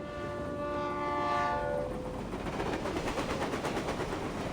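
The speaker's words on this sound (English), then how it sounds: "And why is the stupid train never on time?" A train passes close by with its horn blaring loudly for about two seconds, then the rumble and rhythmic clatter of the wheels over the rails continues steadily on its own.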